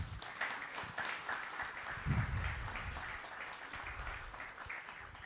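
An audience at a law faculty anniversary ceremony gives a faint, distant round of applause, a soft, steady patter of many hands lasting several seconds without speech.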